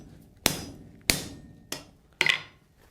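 Hammer blows forging a half-inch H13 steel bar into a slitter tool, four sharp ringing metallic strikes spaced roughly half a second apart, close and loud.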